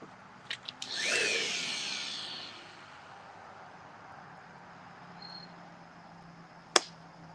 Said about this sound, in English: On to the last sanding pad of 180.